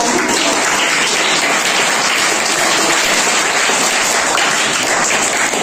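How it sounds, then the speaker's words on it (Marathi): A large crowd applauds steadily and loudly for a quiz group in a General Knowledge Quiz, a dense, continuous roar of clapping that fills the whole stretch without letting up. "त्यांच्यासाठी जोरदार टाळ्या होऊ द्या."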